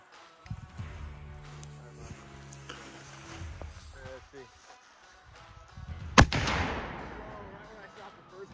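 A small cannon fires in an outdoor setting with one sharp, loud boom and a rushing tail. Before the shot people talk and a low mechanical hum can be heard.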